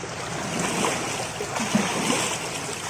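Water on the Brahmaputra river at Dhubri, Assam, churns after a boat passes. It makes a steady, loud rushing wash with wind-like hiss and small splashes throughout.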